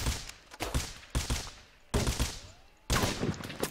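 Gunfire in the video game Rust comes in sharp bursts, four separate volleys of rapid shots with short pauses between them, each followed by a brief echoing tail, with no talk.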